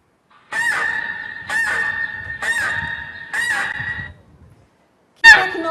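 Geese honking loudly and close, four long nasal honks in a regular sequence with short gaps, then a sharp fifth call after a pause.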